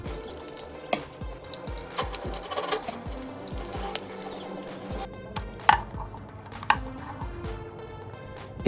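Small screws being tightened into the plastic case of an ANENG M113 compact digital multimeter, heard as close, quiet clicks and scrapes with a few sharper taps in a fairly noisy room.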